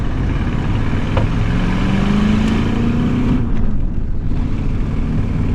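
A 2006 Dodge 2500 pickup with a 5.7 Hemi V8 accelerates, its engine note rising steadily under a loud, close, continuous roar before easing off.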